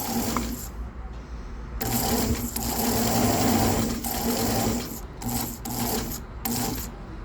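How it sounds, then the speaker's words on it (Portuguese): Sewing machine stitching fabric for a crochet baby blanket, running at 3 mm stitch length with a reverse start; loud steady motor-driven stitching in long bursts separated by brief pauses, close by with no talk. "Aqui eu abaixo a agulha e começo com a costura."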